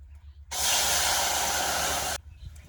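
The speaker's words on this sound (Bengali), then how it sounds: "উনানে প্রথমে আমি দু বাটি জল দিয়ে দেব" Water poured onto a hot pan on a lit stove gives a sudden loud, close hiss that holds steady for nearly two seconds and then cuts off abruptly, with quiet surroundings before and after.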